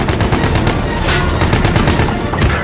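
Video game gunfire: loud, continuous automatic fire with overlapping bursts and rapid repeated shots throughout, close and dense, with no talking.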